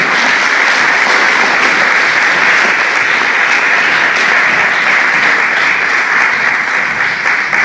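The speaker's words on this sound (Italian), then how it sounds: "grande applauso a loro." Audience applause at a fashion show, a dense, steady wash of many hands clapping that holds loud and unbroken throughout, with no voices over it.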